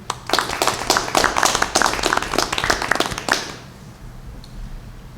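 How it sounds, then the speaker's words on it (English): A short round of applause from people at a school board of education meeting, a dense patter of claps for about three and a half seconds that then stops, leaving quiet room tone. "So I would like to give a quick round of applause to Mrs. Jones, Mr. Healy, Mr. Bogosian."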